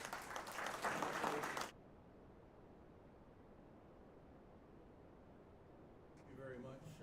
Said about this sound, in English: If we can give them one more round of applause,